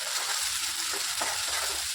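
Onions and whole spices fry in mustard oil in a pan, a steady close sizzle with a few soft stirring scrapes and no voices.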